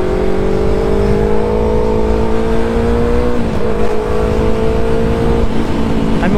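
A motorcycle coasts downhill off the throttle with a loud, close, steady hum and whine and constant wind rush. The pitch stays nearly level, with a slight dip midway.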